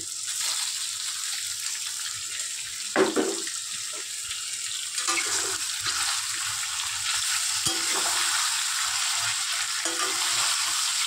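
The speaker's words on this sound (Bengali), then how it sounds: "তেল গরম হচ্ছে, ফ্রাই করে রেখে দিচ্ছি সয়া চাপগুলোকে" Soya chaps frying in hot oil, a steady broad crackling sizzle with occasional clatter and stirring knocks, continuous throughout.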